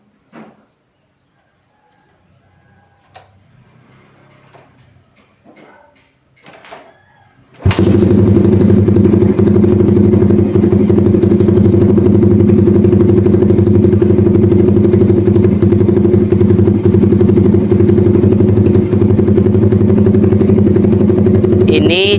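A Suzuki Satria FU motorcycle with a charging-circuit fault, after some quiet handling clatter, starts abruptly and settles into a loud, steady close idle that runs on alone.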